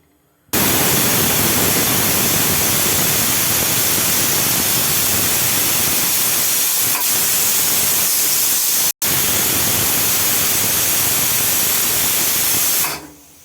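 A pressure cooker cooking bottle gourd lets off steam: a loud, steady rushing hiss that runs for about twelve seconds, with one brief cut partway through.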